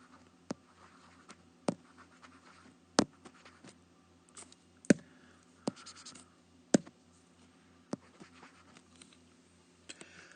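A pen draws points on a graph, making faint scratchy taps and short strokes at irregular intervals over a quiet, steady low hum.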